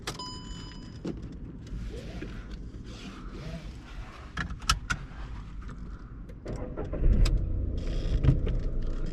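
A 2011 Skoda Fabia 1.2 petrol engine cranks and catches near the end, its low rumble swelling up after a few quiet clicks and rustles.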